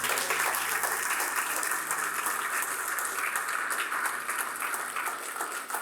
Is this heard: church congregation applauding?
yes